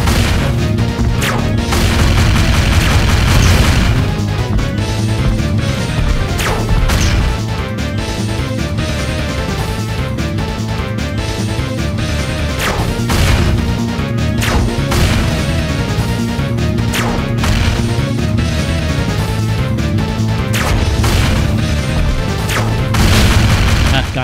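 Bombs and grenades explode in a Wii video game as a dense, loud, nearly unbroken barrage of booms and crashes, with sharp bursts stacked over a heavy low rumble.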